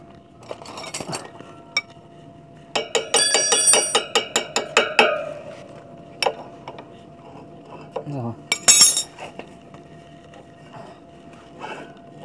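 Metal tools clink and clatter against the front disc-brake wheel rim of a Honda Wave RSX motorbike during wheel removal, with rapid bursts of ringing metallic taps, a few scrapes and pauses between, close and fairly loud.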